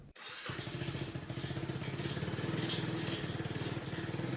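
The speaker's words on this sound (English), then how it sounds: "Let's start the engine and check the headlight" A 2014 Tao Tao 150cc GY6 Chinese scooter engine starts after a brief cranking click, then settles into a steady, close, pulsing idle with a rapid rhythmic putter.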